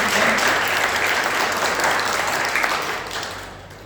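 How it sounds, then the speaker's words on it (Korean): Enthusiastic applause from a church congregation at a Sunday service, full and even at first, then gradually fading toward the end. "우리 박수 부탁드립니다."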